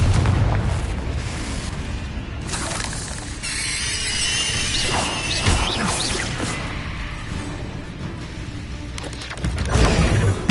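Confringo blasting spell explosions in the game Hogwarts Legacy: several loud booming bursts and crashes spread through the clip over dense game effects, with a heavier blast near the end.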